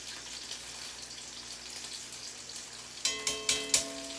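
Scallops sizzling in a pan just after being flipped, a steady hiss of frying with a few louder spatters and clinks near the end.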